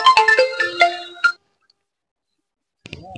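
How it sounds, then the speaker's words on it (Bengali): A mobile phone ringtone plays loudly up close as a call comes in, a quick run of bright melodic tones that stops abruptly, followed by a pause and a brief voice starting. "ফোন আইছে।"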